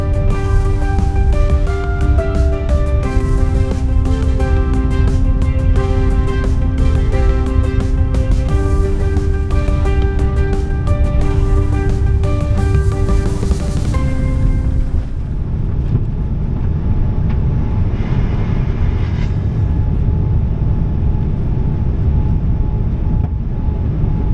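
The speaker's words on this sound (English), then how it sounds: "We'll be taking off in this smoggy weather from runway 14L, the left one of the 2 parallel runways at Gimpo." JAL Boeing 787-9 taking off from runway 14L at Gimpo in smoggy weather, a loud, continuous engine roar heard from inside the cabin with steady tonal whine that shifts to a broader rushing rumble partway through.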